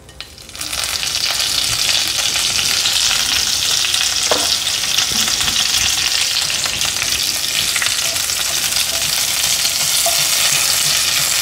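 Mustard seeds and a sprig of curry leaves sizzling and crackling in hot oil while making masala vada, a steady loud fry with no talk.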